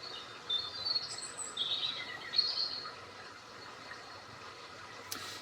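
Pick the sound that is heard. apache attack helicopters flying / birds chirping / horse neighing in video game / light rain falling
birds chirping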